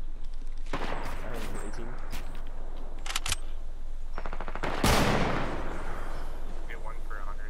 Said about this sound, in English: Watch out, they're both sniping.